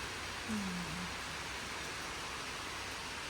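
Heavy rain falls steadily outside as a continuous broad hiss, even and unbroken, with a brief low murmur early on.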